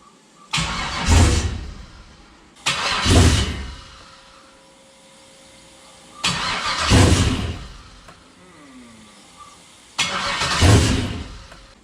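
6.0 engine in a CUCV truck being cranked for its first start: four separate bursts of starter cranking, each a few seconds of loud rhythmic churning with near-catches, separated by quiet pauses.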